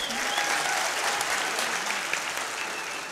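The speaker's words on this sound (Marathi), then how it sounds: "म्हणून एकदा जोरदार टाळ्या वाजवायच्या विचार मंचासाठी." An audience at a birthday guidance event in Maharashtra claps in steady, sustained applause that fills the moment, moderately loud and without talk.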